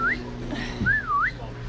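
A black-capped lory parrot gives clear, close, rising and falling whistles, a short rising note followed by a longer wavering one over a low background hum.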